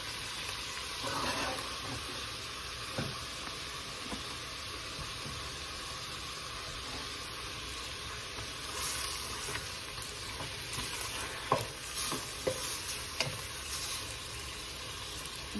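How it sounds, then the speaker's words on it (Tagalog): Chicken left over from a Costco grilled chicken sizzles steadily in a pan while being sautéed until reddish, with a continuous hiss and occasional stirring clinks and scrapes, no talking. "Ating pong gigisa siya hanggang sa magpula-pula, pumula-pula."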